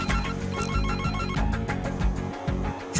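A telephone ringtone chimes in a repeating melodic pattern, fairly loud and close, as a message arrives on a phone in an action film scene.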